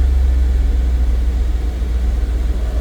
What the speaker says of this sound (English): you can hear the AC kicking on